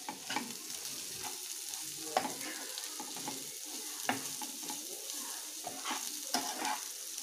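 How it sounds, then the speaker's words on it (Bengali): Vegetables for egg veg chowmein frying in a pan while being stirred: a steady sizzling hiss broken by repeated scraping strokes and light knocks of the spatula, close and even in level. "এবার এটা ভালো করে আমরা মিশিয়ে নেব"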